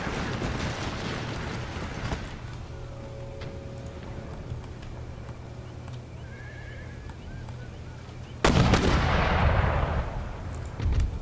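Artillery round shots fire in an Empire Total War siege battle, a loud burst near the end over a steady low battlefield rumble, with horses neighing faintly in the background.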